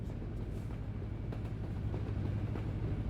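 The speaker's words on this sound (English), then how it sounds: "Train going past." In the Euro Truck Simulator 2 video game, a train rumbles past with a steady, low rolling roar and faint rhythmic clatter at moderate volume.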